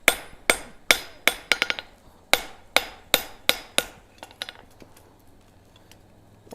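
Hammer blows forging a bevel on hot steel at an anvil, sharp ringing strikes in quick bursts of four or five with brief pauses, loud and close, tapering to lighter, quieter taps at the end.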